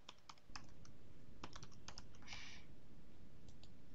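Quiet, irregular clicks of typing on a computer keyboard, close and soft, with a short burst of faster keystrokes midway.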